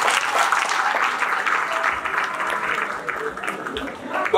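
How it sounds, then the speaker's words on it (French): An audience at a community gathering in Paris applauds for a singer, steady, fairly loud clapping filling the whole stretch with mixed crowd noise and possible cheering underneath. "Applaudissez-la."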